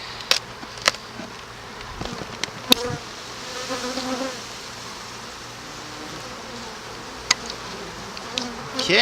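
Honey bees buzz steadily inside an open beehive, a dense close hum filling the whole stretch with a few sharp clicks and knocks from hive handling.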